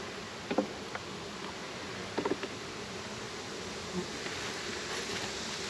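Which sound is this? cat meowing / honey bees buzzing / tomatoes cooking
honey bees buzzing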